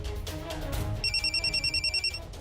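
A telephone rings in a Hindi TV serial scene, a rapid electronic trill in regular bursts that begins partway through. It rings clearly over a dim room background.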